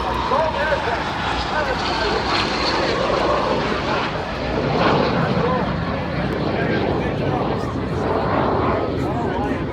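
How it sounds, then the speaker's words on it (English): A long-range assault tiltrotor aircraft flying at an air show, its heavy propeller and engine roar steady and loud throughout beneath a public-address announcer's voice. "Just a long range assault aircraft."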